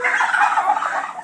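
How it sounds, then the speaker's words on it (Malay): A turkey gobbles once, loud and close: a rapid, rattling burst that lasts just over a second, with no other sound around it. "Ayam Belanda."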